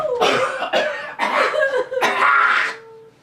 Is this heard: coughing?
yes